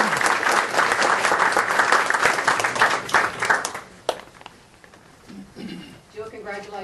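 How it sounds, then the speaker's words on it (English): A round of applause at a city school board meeting, dense clapping from the room for about four seconds that quickly thins out, followed by murmured talk and a speaking voice. "if we'll give her a round of applause."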